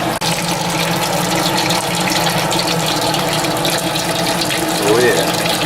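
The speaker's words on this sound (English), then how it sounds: "the mash is complete, and I'm just draining off my mash now" Brown ale mash liquid drains steadily from a homebrewing vessel with a continuous, loud watery rush and no breaks.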